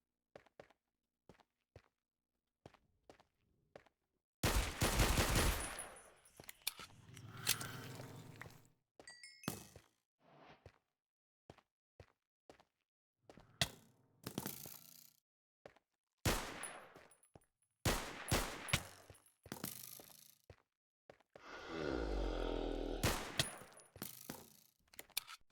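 Gunfire in modded Minecraft comes as scattered sharp cracks and short bursts, some loud and near, others faint, separated by quiet gaps and spread irregularly across the stretch with no talk.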